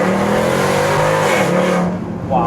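Mercedes C63 AMG with Alibaba headers, its exhaust droning loud and close with a rising rev, a brief dip, then another climb in pitch near the end.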